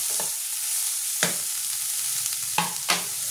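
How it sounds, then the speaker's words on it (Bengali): Tomato and garlic frying in a pan for an eggplant bharta, a constant hiss of sizzling with four distinct scraping strokes of a spatula, close and clear with no talking. "এটা একটু আমি ভাজা ভাজা করে নেব, টমেটোটা রসুনটা"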